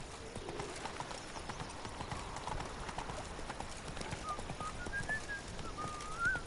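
Roach the horse galloping in The Witcher 3: Wild Hunt, a quick rhythmic clip-clop of hooves running steadily under ambient outdoor game sounds with faint bird calls and whistling.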